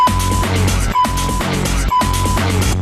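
Electronic dance track playing a drum fill at the end of a four-bar phrase, dense percussive hits over a sustained tone and bass, repeating in three loud, even bursts with no talking.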